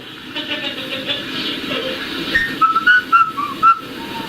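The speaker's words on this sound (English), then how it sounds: "I'm whistling my concerto" Thin, wavering whistled notes from a child, a short halting melody rising over background hiss and rumble, recorded on old tape from 1989.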